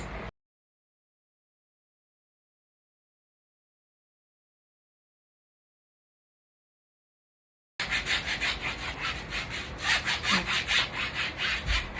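A pedicure tool rubs back and forth along a leg during an at-home pedicure, giving a close, steady rasping scrape that starts abruptly after a long silence and runs continuously to the end.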